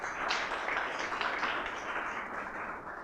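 An audience applauds as a guest takes a seat at the head table, a steady wash of many hands clapping together at moderate distance, fairly quiet and continuous throughout.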